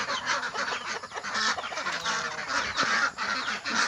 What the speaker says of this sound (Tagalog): ito yung mga itik ko